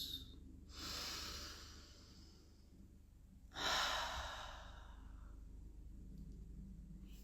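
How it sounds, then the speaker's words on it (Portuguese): Two slow, deep breaths are drawn in through the nose during a guided relaxation. Each airy inhale swells gently and then fades, separated by quiet pauses over a low background hum. "Comecem a fazer algumas respirações profundas."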